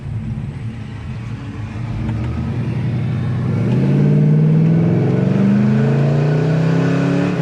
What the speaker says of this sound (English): Good sound and dual exhaust.